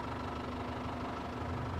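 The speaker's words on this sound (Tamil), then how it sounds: "இன்ஜின் இப்போ வந்து ஸ்டார்ட் பண்ணி தான் வச்சுருக்குறோம். இன்ஜினோட நாய்ஸே வந்து இன்னும் சூப்பராக இருக்குது" A 2012 Tata Sumo Gold engine idling, a steady low, even mechanical hum with a faint rhythmic knock, continuous and moderately quiet from close by, with no voices over it.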